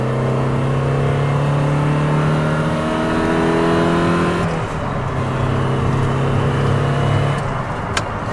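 A 1995 Mazda Miata NA engine pulls under steady throttle, its tone climbing smoothly, dipping at a gear change, then climbing again, loud and close from the cabin.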